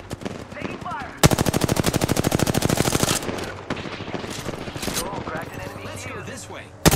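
Automatic weapon fire in the shooter game Apex Legends, a rapid, loud burst of evenly spaced shots lasting about two seconds, followed by scattered single shots and in-game voices.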